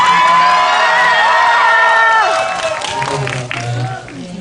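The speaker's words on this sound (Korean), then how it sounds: "그렇다면 지금 함성을 지를 기회를 드리도록 하겠습니다." A cinema audience at a Megabox talk event for the film Ansisung cheers loudly, with high shouts and whoops over scattered clapping, fading after a couple of seconds.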